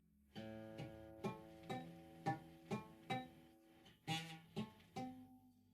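A poorly fretted acoustic guitar chord is strummed repeatedly, about ten uneven strokes, each with buzzing, rattling strings and some muted, dead notes, quiet and close with no talk.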